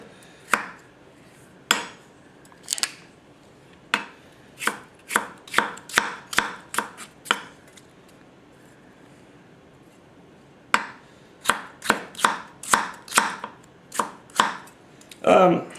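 Celery chopped with a Yamashin White #1 210mm gyuto, an asymmetric-grind carbon-steel knife: sharp, close knocks on the board, first in a few spaced strikes, then in quick rhythmic runs with a pause midway, no talk.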